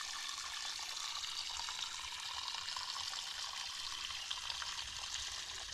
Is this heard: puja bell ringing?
no